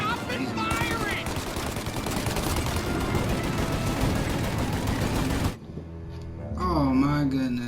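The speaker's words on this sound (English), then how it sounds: "I'm shooting." Heavy gunfire in the video game Mafia during a deal gone wrong, a loud unbroken stream of shots for about five seconds that cuts off abruptly, followed by a person speaking.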